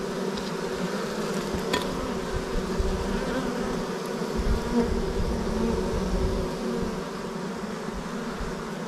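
Steady, dense buzzing of many honeybees at a hive entrance, a continuous hum at moderate volume with no voices.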